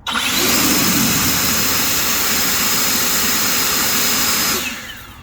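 EGO 56-volt 650 battery leaf blower running on turbo, a loud close high-pitched whooshing roar that starts abruptly, holds steady for about four seconds, then winds down.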